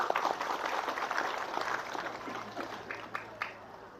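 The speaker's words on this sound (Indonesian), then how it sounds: "Tepuk tangan untuk Singkut." A crowd claps at a lecture gathering in Indonesia, a fairly faint, steady patter of applause heard from a distance that gradually dies down, with a low hum underneath and a few separate claps toward the end.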